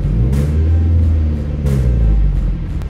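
A car with a Piper cam and a GT3071 ball-bearing turbo revs loudly up close, a deep steady engine rumble with two sharp rising blips of throttle, no talk.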